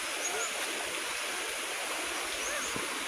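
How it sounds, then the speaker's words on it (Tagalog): A countryside river flows steadily in a continuous broadband rush of water, moderately close and unbroken, with no talk over it. "Ayan yung karugtong na isa. Ilog."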